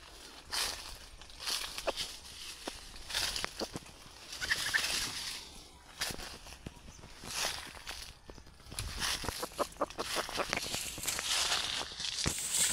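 Labuyo wild junglefowl hen, a newly kept bird, clucking repeatedly in close, uneven bursts with scratchy rustling and flapping, the calls stopping and starting across the whole stretch with no voices.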